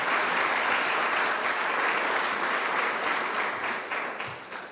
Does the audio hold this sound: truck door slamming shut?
no